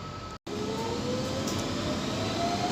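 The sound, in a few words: night tube train departing Stratford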